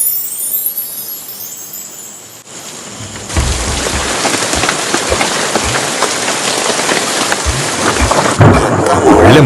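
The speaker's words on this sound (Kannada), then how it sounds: "ಒಳ್ಳೆ ಮಳೆ ಅಲ್ಲ, ಬಿರುಗಾಳಿ ಬರುತ್ತೆ ಅನ್ಸುತ್ತೆ." Heavy rain pours steadily through the night, with a faint hiss at first that swells into a loud, dense downpour with thunder rumbling low beneath it; no one speaks.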